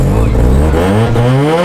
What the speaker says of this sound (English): I'll try revving it